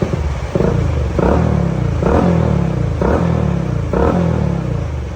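A motorcycle engine revs after repair, with five even throttle blips rising and falling over a steady idling clatter, close and loud.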